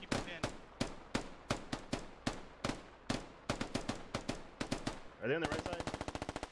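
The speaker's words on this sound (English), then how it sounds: "Suppressive fire." Rapid suppressive gunfire in the SquadOps video game: repeated sharp single shots in an uneven rhythm, then a fast, evenly spaced automatic burst near the end, with a brief spoken question over it.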